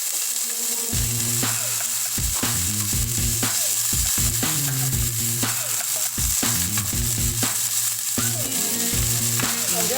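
Onion sizzles in two tablespoons of olive oil while it is stirred, making a loud, constant crackling fry across the clip. Metallic scraping and clicking from the spoon come in repeated bursts on top, and no one speaks.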